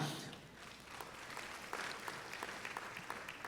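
A church congregation claps together in a dense, steady patter of many hands, moderately close and fairly soft, continuing without break.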